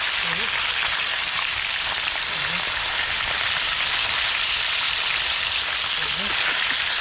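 A dense, continuous crackle and hiss of food frying in oil fills the clip, with faint voices murmuring underneath.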